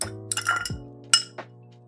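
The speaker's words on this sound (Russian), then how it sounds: "Добавляем лед в наш бокал." Ice dropped into a cocktail glass for a Negroni of gin, Campari and sweet red vermouth, giving a few bright clinks and rattles within under two seconds, close and fairly quiet, with no talking.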